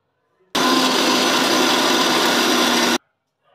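A kitchen mixer grinder blends vegetables into a paste for dhaba chicken gravy, a loud steady whirring motor running for about two and a half seconds, starting and stopping abruptly.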